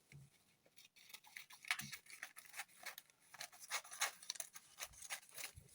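Scissors cut out fabric pieces for a maxi wrap circle skirt, with a series of quiet, irregular crisp snips and rustles of cloth, close by.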